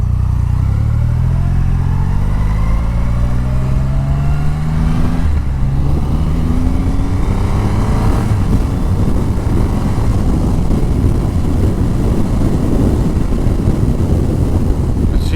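Triumph Rocket 3 motorcycle riding on the road, its loud engine note climbing through rising gear pitches over constant heavy wind buffeting across the microphone, with no one speaking.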